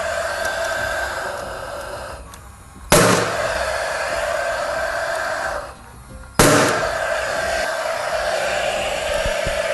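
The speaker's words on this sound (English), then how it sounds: "hold it in place, again with the nail gun, drive it home" Two sharp pneumatic nail gun shots fastening Hardie plank fibre cement siding, spaced a few seconds apart over a steady loud compressor-like hiss, outdoors with no talking.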